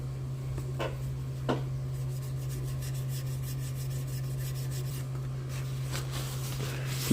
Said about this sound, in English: There's no friction between the sanding stick and the roof.